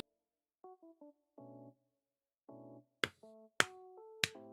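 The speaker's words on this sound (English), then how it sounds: "That's a pity clap" A few slow, isolated hand claps ring out close and sharp, spaced well apart like a half-hearted pity clap, following some brief electronic beeping tones in an otherwise quiet room.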